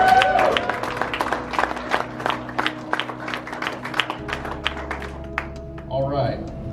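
A small crowd claps for weight-class winners at a strength competition awards announcement, a run of distinct, fairly sparse claps that fades out, with a voice talking in the room near the end.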